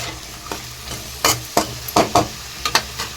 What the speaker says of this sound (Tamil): இதை வந்து இந்த மாதிரி நல்லா மிக்ஸ் பண்ணி எடுத்துக்கலாம்